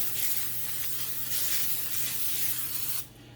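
A steady hiss of an aerosol can spraying extra virgin olive oil for about three seconds, with a brief dip partway, then stopping abruptly.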